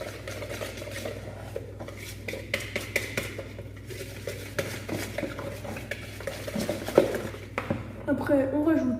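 A whisk or spoon stirs flour and milk into pancake batter in a bowl with repeated wet scraping and light clinks against the sides, close and steady, while a person talks over it.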